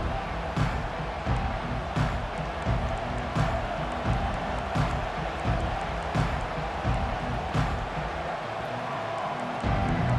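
Stadium crowd in College Football 25 roaring steadily at a kickoff featuring FSU, a dense continuous cheer with sharper bursts rising out of it, loud and sustained throughout.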